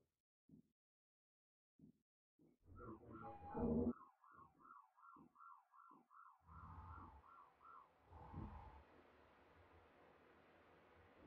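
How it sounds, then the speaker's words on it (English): A fire alarm goes off in the space station game Space Station 13 (Goonstation), a rapid warbling electronic tone repeating for several seconds, fairly faint, with scattered thumps before it and a hissing noise as it fades. "Why'd the fire alarm go off?"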